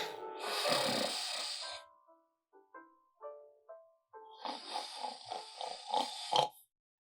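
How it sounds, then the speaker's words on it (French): A person snores loudly and close by, with long rasping inhales and snorting grunts between them, set in a scene from a Nigerian film. "Tu te plains du fait que je ronfle."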